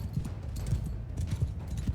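Horse hooves gallop in Mount & Blade II Bannerlord as horse archers charge into battle, a steady rhythmic clip-clop of dull, close thuds running throughout without talk.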